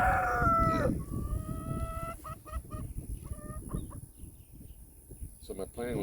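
Chickens cluck and a rooster crows on a small farm in Goliad, Texas, with a long rising crow near the start followed by choppy clucking calls close by, and a voice speaking briefly among them.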